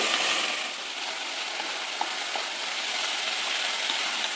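Vegetables and peas sautéing in oil in a pan, a steady soft sizzle with faint crackles throughout, close and with no talking.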